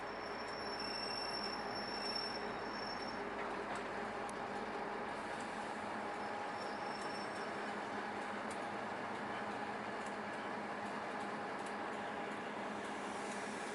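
The Mainlander tourist train departs Dunedin railway station as a steady, fairly distant rumble with a continuous high squeal of steel wheels on rail. No voices are heard.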